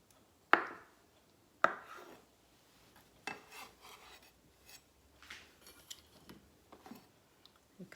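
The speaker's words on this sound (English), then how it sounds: "Cut my egg in half." A knife cuts a boiled egg on a board, two sharp close thuds followed by quieter scraping and soft tapping cuts as it is sliced into quarters, alone in a quiet kitchen.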